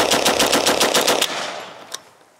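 An M3A1 Grease Gun submachine gun fires a fast, steady burst of about twelve loud shots into a dummy for just over a second, followed by a decaying echo and one faint late crack.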